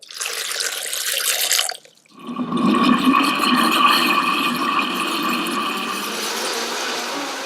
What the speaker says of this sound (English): throw everything in the blender and blend into a smoothie.